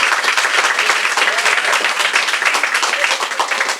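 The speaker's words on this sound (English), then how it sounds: "Actually, I am not the one who deserves applause." Loud, dense audience applause at the start of an evening event with Kenneth Lonergan, many hands clapping in a continuous roar with a few distinct sharp claps, sustained without pause.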